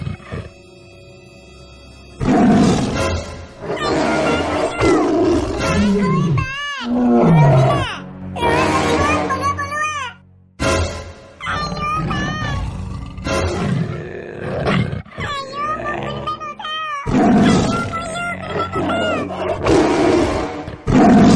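In a comedy cartoon, a tiger lets out repeated loud, growling roars that alternate with animated character voices talking over one another, the roars rumbling and swelling between lines of dialogue.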